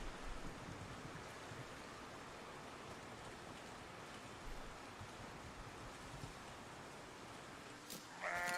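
Plump sheep graze in the medieval city-building game Foundation, bleating faintly over a quiet, steady, rain-like ambient hiss.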